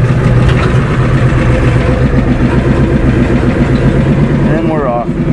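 A worn Ford F250 diesel truck engine with 402,000 kilometers runs at a steady, rough, low rumbling idle close by, while a voice talks over it.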